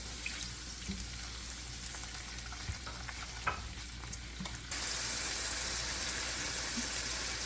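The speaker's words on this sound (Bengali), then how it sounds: "আমার এই ফোড়নের সাথে পেঁয়াজটা এক মিনিট ভাজা হয়ে গেছে" Onion frying with spice tempering in a pan for a big-fish methi curry, a constant low hissing sizzle with occasional stirring scrapes, turning into a brighter, steadier hiss partway through.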